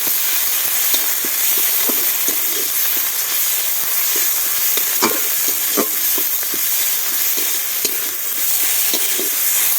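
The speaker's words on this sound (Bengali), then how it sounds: "এবার রসুন বাটা দিয়ে দিচ্ছি, আদা বাটা দিয়ে দিচ্ছি, কাঁচা লঙ্কা বাটা দিয়ে দিচ্ছি, দিয়ে ভালো করে কষিয়ে নেব" Garlic, ginger and green chilli paste sautéing in hot oil, a steady loud sizzle with repeated scraping stirs of a spatula through the pan, no voices.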